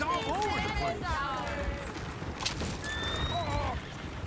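Horses whinny and neigh loudly several times while hooves clatter as they run, set against busy background commotion.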